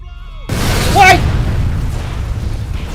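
A loud, deep gas explosion in the game F.E.A.R. erupts and rumbles on as a sustained noisy roar, with sharp burst textures riding over heavy low-end noise.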